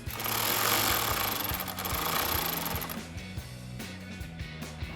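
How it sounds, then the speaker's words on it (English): Ratchet with a 13 mm socket tightening a flange nut on an F-150 intake mounting stud, rapid repeated clicking in short bursts over a whirring hiss that fades halfway, close up. "Now we'll go ahead and tighten this down with our 13 mil socket on our ratchet."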